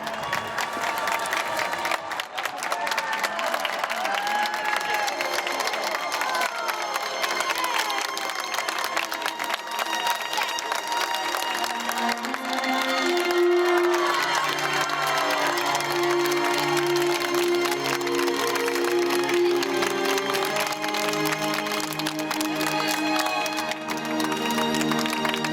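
An immense crowd in St. Peter's Square greets Pope Francis, a steady roar of cheering, applause and voices filling the open square throughout, with a distant musical tone rising in the second half.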